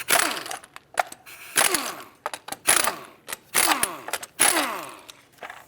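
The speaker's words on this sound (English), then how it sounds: "19mm socket, remove these plastic caps that hold the hubcap on" Repeated ratcheting bursts of a 19mm socket wrench loosening the plastic caps that hold the hubcap on a 2006-2011 Chevrolet HHR rear wheel, close and sharp with short pauses between turns.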